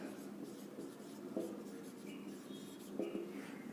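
A pen or chalk scratches out an arithmetic progression formula during a class 10 maths lecture, with soft, close strokes in short bursts and faint speech in the background.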